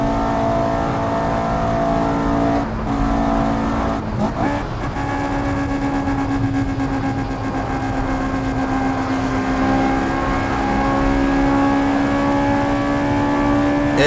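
A car engine droning steadily in the driving game Assetto Corsa on a highway, holding a sustained tone with a brief dip and a couple of small knocks early on, no talk over it.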